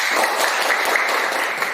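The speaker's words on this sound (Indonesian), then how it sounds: "tepuk tangan buat kelompok yang 4" A classroom audience applauds a student group, with dense, steady clapping from many hands that is fairly loud and continuous throughout.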